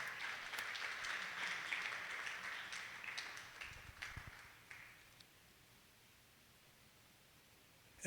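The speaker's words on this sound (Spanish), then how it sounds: "Denle un aplauso a Dios" Congregation applauding during a Bible study service, a sustained wash of clapping for about five seconds that fades away into near silence, with a sudden loud burst at the very end.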